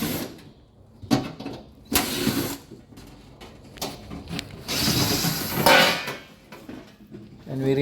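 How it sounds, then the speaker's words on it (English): Back cover coming off a Panasonic washing machine: a series of plastic and metal clunks, scrapes and rattles, with a louder, denser scraping stretch midway, recorded close up. "And we remove the back cover."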